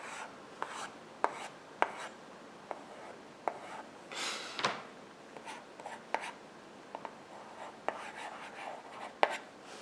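A stylus scratching across a plastic digital writing slate in short, close, quiet strokes, with brief taps and pauses between marks, faint breathy whispers in the background.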